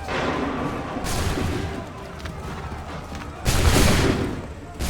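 Musket volleys crack out in an Assassin's Creed 3 Remastered revolutionary war battle. Two loud, broad bursts of massed fire stand out, one early and one late, over continuous battlefield rumble.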